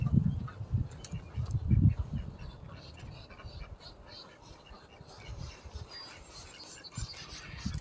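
Ducks in a muddy pit quack in a few close, loud bursts near the start, then the calls fade under low outdoor rumble and faint background noise.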